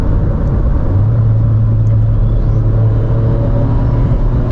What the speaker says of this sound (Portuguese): Estamos acelerando forte e o carro nem sinal de um ronco que incomoda.